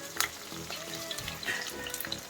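Onions, green chillies and curry leaves cook in a pan for a cabbage and moong dal curry, giving a soft, steady sizzle with faint watery crackles and small clinks throughout, with no talk.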